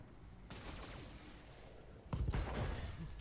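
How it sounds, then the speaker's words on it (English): Turret gunfire in the BattleTech video game: a burst of rapid shots, then a louder, heavier volley of impacts near the end, over a steady rumbling background. "Turrets doing a lot of work here."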